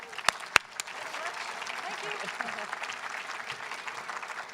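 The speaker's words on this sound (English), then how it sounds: "please give her a nice round of applause." A crowd at a pro-life rally applauds steadily for a speaker after a few sharp claps at the start, moderately loud and continuous throughout.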